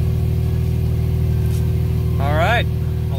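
A Nissan RB26 single-turbo engine swapped into an S14 idles with a steady, even low rumble close by, broken near the end by a short rising squeal.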